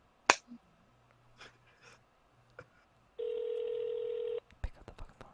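Telephone keypad tones during a customer service call: scattered clicks and taps, then one loud steady electronic tone lasting about a second, with faint voices around it.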